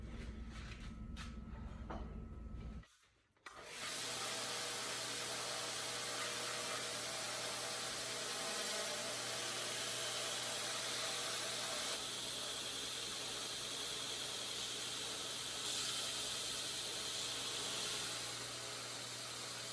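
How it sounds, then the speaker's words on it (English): A belt grinder in slack belt mode shaping a wooden dagger handle gives a steady loud whirring hiss with a constant motor hum, briefly cut off near the start before running on continuously. "I reset up the grinder into the slack belt mode"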